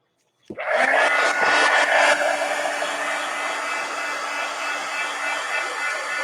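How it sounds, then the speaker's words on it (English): A heat gun switches on with a sharp click and settles into a loud, steady blowing whoosh with a constant hum, running alone and unbroken for several seconds while being used on a journal page. "let's hit this with the heat gun."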